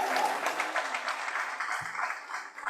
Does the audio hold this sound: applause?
yes